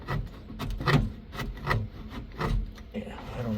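A part on a 1971 C30 with an LS engine swap scrapes against the top as it is repeatedly opened and closed, giving several rough rubbing rasps in an uneven rhythm, fairly close.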